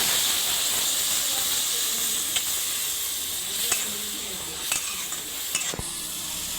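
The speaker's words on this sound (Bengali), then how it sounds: "এবার আমরা পরিমাণ মতো জল দিয়ে দেবো।" Water poured into chicken keema cooking in a hot pan sets off a loud, steady sizzle and hiss, with a few scraping stirs and clinks of a utensil breaking through.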